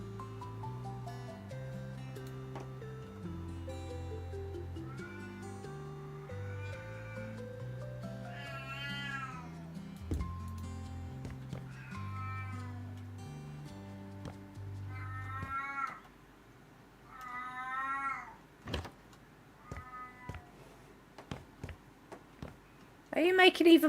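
A house cat meows and caterwauls repeatedly in drawn-out, wavering cries, close and fairly loud, over steady background music, followed by sharp clicks and knocks near the end.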